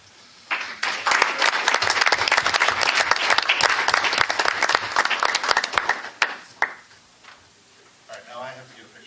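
Sustained crowd applause, dense and loud for several seconds, then tapering into scattered claps with a voice near the end.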